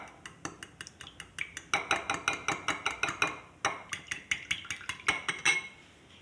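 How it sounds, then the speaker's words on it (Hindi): Eggs being beaten in a bowl for an egg paratha, giving quick rhythmic clinks and scrapes of the whisking strokes, close and steady, with a brief pause midway and no talking. "पहले 1 अंडा डालूंगी, दूसरा आप 2 डाल सकते हैं, 3 डाल सकते हैं, आपकी मर्ज़ी है। थोड़ा सा फेंट लूँगी।"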